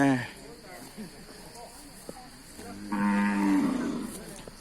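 Cattle at a local livestock market moo in a long, fairly loud low call midway through, with a faint earlier moo, over a steady outdoor background with insect-like hiss.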